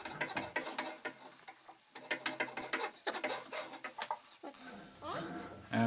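A metal shaper cutting a bronze bushing gives repeated rhythmic scraping strokes and mechanical clatter, each pass a short rasp with ticking machine noise between, while a person talks over it.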